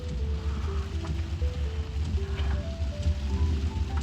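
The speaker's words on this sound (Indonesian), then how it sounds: "Mulai hujan deras di tol Probolinggo." Heavy rain falls on a car driving along the Probolinggo toll road, a steady dense patter over a low road rumble, continuous and close, with no talking.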